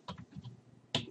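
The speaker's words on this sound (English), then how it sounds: "Now in the run box, we'll type in" A few quick clicks and taps on a computer keyboard as a command is typed into the Windows 8 run box. The keystrokes come as a short, close, irregular burst, with a sharper final press.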